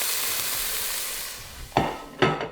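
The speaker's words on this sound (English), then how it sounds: "is this too small to sear? Like, look how small the beef is." Small pieces of beef sear in a hot pan for beef mechado, giving a strong continuous sizzle that eases off, then two sharp stirring scrapes and crackles near the end.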